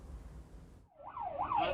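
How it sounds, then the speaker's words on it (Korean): An ambulance siren starts up and wails in rising and falling sweeps as the vehicle speeds down a downhill road toward a children's baseball field after a crash, growing louder after a brief low rumble of traffic. "구급차가 어린이 야구장으로 가는 내리막길을 급하게 달려갑니다"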